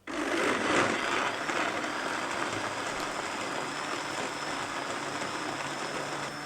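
An electric blender grinds almonds with water, poppy seeds and cardamom for almond syrup, a loud continuous whirring roar that starts abruptly and holds steady without a break.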